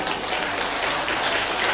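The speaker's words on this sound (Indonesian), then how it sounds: "Tepuk tangan dulu" Steady, dense applause from an audience at a senior high school farewell party in Palembang, continuous and fairly loud throughout.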